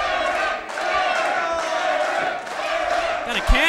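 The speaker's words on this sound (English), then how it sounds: "Got a Cannon chant going." A dense wrestling-show arena crowd roars and chants in unison, a steady wall of voices with a few thuds and shouts cutting through near the end.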